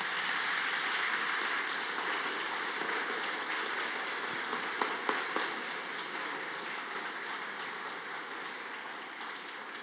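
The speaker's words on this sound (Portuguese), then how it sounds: "Gostaria que desejasse uma salva de palmas para o nosso querido palestrante." Sustained audience applause after a talk at a church mission event, a dense, steady wash of many hands clapping that holds evenly throughout with no voices standing out.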